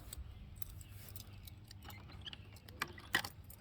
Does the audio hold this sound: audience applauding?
no